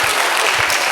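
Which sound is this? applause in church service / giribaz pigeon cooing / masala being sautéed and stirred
applause in church service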